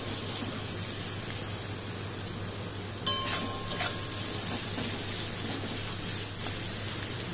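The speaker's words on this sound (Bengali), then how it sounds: "আর একটু লাল লাল করে ভাজা হোক।" Chopped onions frying in oil in a pan for a country-chicken and potato curry, a steady close broadband sizzle throughout, with a couple of louder stirring scrapes near the middle.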